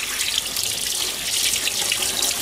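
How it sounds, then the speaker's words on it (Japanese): Root vegetables freshly dug from the ground rinsed under a running kitchen tap, a steady close hiss of water splashing into the sink with no talking. "泥ついてたらまずいからちょっと洗うかな"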